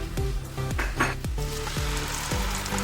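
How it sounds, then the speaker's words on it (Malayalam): Ground ripe jackfruit pulp for jackfruit halwa meets hot ghee in a pan, a bright sizzle layered over a run of ringing metallic clinks and knocks that recur about twice a second, with no talking. "ഇനി ഈ നെയ്യിലേക്ക് തന്നെ നേരത്തെ അരച്ച് വെച്ചിരിക്കുന്ന ചക്കപ്പഴവും ഒഴിച്ചു കൊടുക്കാം"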